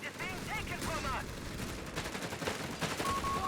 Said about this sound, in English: Machine gun sitting up in the middle here.